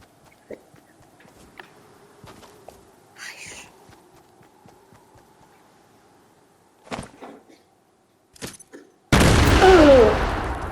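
Sticky bomb explosions in the video game Fortnite: a few faint thuds and sharp pops across a quiet stretch, then a loud, sustained roaring blast that fills the final seconds.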